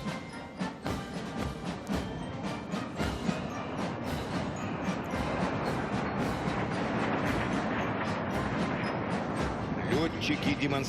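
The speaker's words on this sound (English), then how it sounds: "we now see 3 Tupolev Tu-22M3 supersonic long-range strategic bombers and missile carriers" Three Tupolev Tu-22M3 supersonic long-range strategic bombers pass over a military parade on Red Square in Moscow, making a loud, continuous roaring rumble that builds slightly as they fly past.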